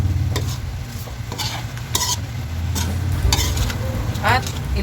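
Chicken liver menudo stirred in a pan, with repeated scraping and clattering strokes of a spoon over a steady close sizzle, the strokes landing at an uneven rhythm.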